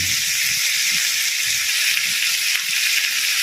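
Curry simmering in a pot after broth is poured over the fried spices, giving a steady, loud hiss and sizzle that runs unbroken throughout, with faint low clatter beneath.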